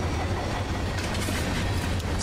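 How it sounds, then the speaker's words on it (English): A freight train in the Run 8 Train Simulator game rolls past with a steady low rumble and faint rhythmic wheel clatter, continuous and fairly close. "there's our train"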